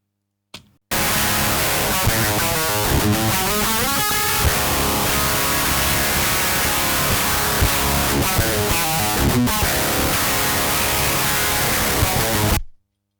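A distorted electric guitar recorded direct through a Boss TAE plays back without any cabinet impulse response, a loud, harsh, fizzy wall of noisy tone with rhythmic riffing that starts abruptly and cuts off at the end.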